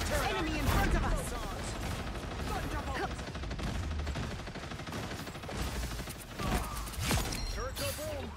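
Punisher's turret in the video game Marvel Rivals fires bursts of rapid automatic gunfire amid a loud chaotic battle, mixed with other weapon sounds and effects, while voices shout over the action.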